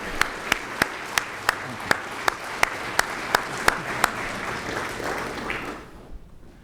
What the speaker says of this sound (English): Let's give another round of applause to these heroes who have given the rest of us a chance to become heroes.